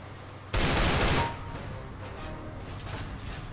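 A Desert Eagle pistol fires in the CS:GO video game, one loud burst of gunfire lasting under a second, followed by quieter game noise.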